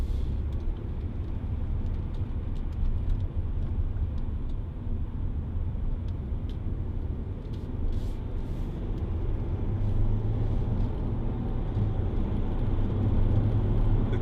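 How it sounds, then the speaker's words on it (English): A Land Rover Discovery 4 with a 3.0 TD V6 diesel drives and accelerates, heard from the cabin as a steady low engine drone and road roar with a slight rise in intensity. "The car just accelerates effortlessly"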